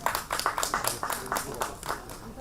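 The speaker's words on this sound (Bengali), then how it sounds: "একটা হাততালি।" Scattered audience clapping at a Satyajit Ray quiz held at Nandan, quiet and brief, a few seconds of loose applause in a large hall.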